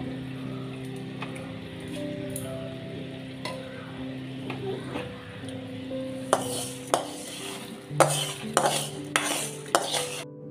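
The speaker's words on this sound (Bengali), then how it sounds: "মুগ ডালটা ভাজা হয়েছে, এটা এখন এর মধ্যে দিয়ে দেবো।" Mung dal frying and being stirred in a pan with spices, a steady low sizzle with metal utensil scrapes and clinks growing sharper and more frequent toward the end, close by with no talk.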